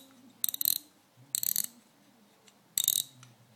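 An AFC star wheel is threaded onto a Cummins P7100 injection pump housing, giving three short bursts of ratcheting metallic clicks separated by quiet pauses, close and fairly faint.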